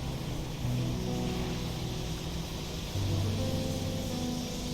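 A fishing boat sails across the water in the video game DREDGE, giving a steady, low engine drone with a soft wash of water and wind that holds for the whole stretch and swells slightly partway through, with no talking.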